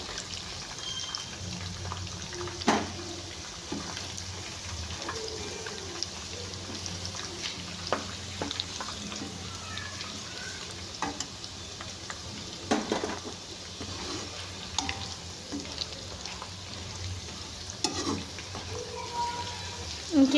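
Chicken pakodi frying in hot oil gives a steady, fine crackling sizzle throughout, with occasional clinks of a utensil and a voice talking over it.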